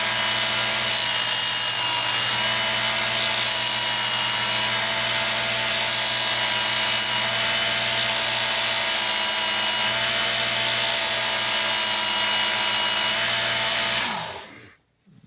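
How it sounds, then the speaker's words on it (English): A Work Sharp electric knife and tool sharpener runs with a steady high-pitched whir and grinding buzz while a knife is drawn through its belt track, loud and continuous before the motor winds down at the end. "Go ahead and turn it on. Set the knife down in the track and pull back."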